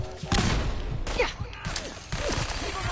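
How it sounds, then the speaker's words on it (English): Heavy weapon fire in Fallout 4, a dense run of thuds, crashes and blasts with whooshing debris, loud and close, with no clear pauses over a few seconds. "When did you get a minigun?"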